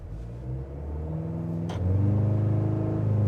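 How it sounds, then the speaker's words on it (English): A 2024 GMC Canyon AT4X AEV pickup launching from a brake-torqued standstill with launch control, its engine rumbling steadily and then surging into a loud, rising roar as the truck accelerates. "Let's try another 0 to 60. This time we're gonna brake torque it and get the launch control to engage."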